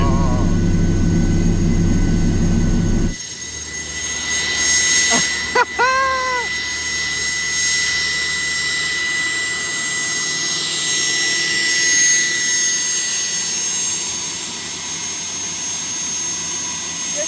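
A jet turbine engine fitted in a Camaro idles with a loud, steady roar and high whine, preceded by a deeper rumble that cuts off, with a brief rising chirp early on.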